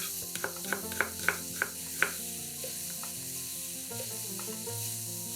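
Champignon mushrooms fry in a pan over the highest heat, giving a soft, steady sizzle, with a run of sharp spatula clicks near the start and scattered taps afterward, heard alone without talking.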